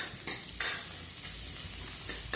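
Slit green chillies sizzle in hot oil in a pan, a continuous bright frying hiss with a few quick stirring scrapes, close and brief, no voices.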